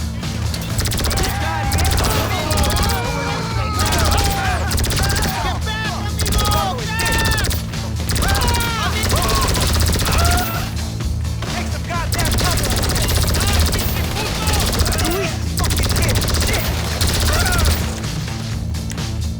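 Bursts of gunfire during a Cluckin' Bell farmhouse raid in GTA V Online, rapid shots and crashes over a constant helicopter-like drone, with someone talking over the action.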